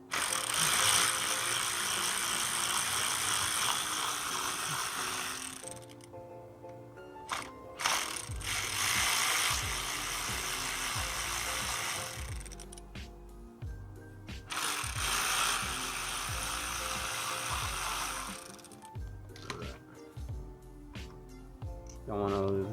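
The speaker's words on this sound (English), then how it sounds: "we're gonna go ahead and remove the bolts to the timing." A ratchet works loose the timing belt cover bolts on a 4AGE engine during reassembly, with bursts of rapid close clicking alternating with quieter pauses, plus the occasional clink of metal parts throughout.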